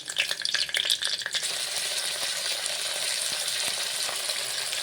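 Green chilli, garlic, curry leaves, shallots and ginger sauté in hot oil with fenugreek for a snail roast, giving a steady close sizzle; at the start, brisk stirring scrapes and clatters.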